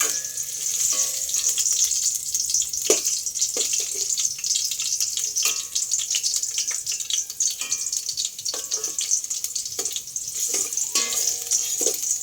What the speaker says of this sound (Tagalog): Ang una nating igigisa ay ang luya.